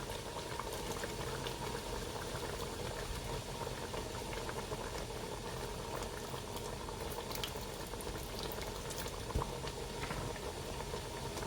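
A pot of liquid with cinnamon sticks at a steady rolling boil for candied yams, with dense continuous bubbling and a faint low rumble that holds evenly throughout and includes one brief louder pop near the end.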